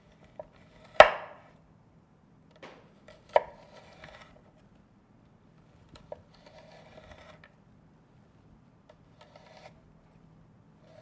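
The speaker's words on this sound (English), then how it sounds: "I can use my finger as a guide to cut very thin slices in the onion" A kitchen knife slices an onion thinly with a rocking motion, giving a handful of sharp, crisp cuts against a board, one loud chop early and softer scattered taps after, close by in a quiet room.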